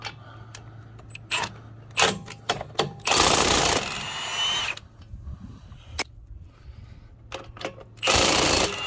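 An impact tool spins off a 19 mm lug nut on the wheel of a Mercedes-Benz Winnebago Navion motorhome, with loud close whirring bursts between sharp clicks and clanks of the socket and tool handling.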